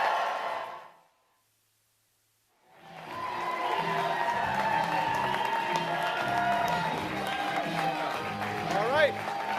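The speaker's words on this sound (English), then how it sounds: "please join me in giving a huge round of applause to our Prime Minister" Crowd at a political rally in Hamilton, Ontario, cheering and clapping for Prime Minister Mark Carney after a brief silence, a loud continuous roar that mixes with music, shouts and voices.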